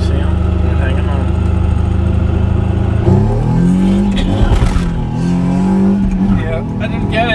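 A Mazda RX7 with a swapped Nissan Maxima V6 engine pulls hard, its loud rising engine note climbing through the revs with a gear change midway, while people talk over it inside the car.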